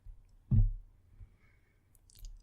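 A computer mouse click sounds once, sharp and close, while a Linux installer is being set up, followed by quiet room tone.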